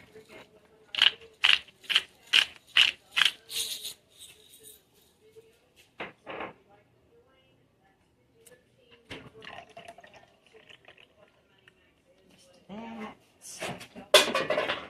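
A pepper mill grinds pepper for weekly meal prep in a series of about six quick, evenly spaced ratcheting crunches near the start, followed by quieter kitchen handling and later some mixing noise.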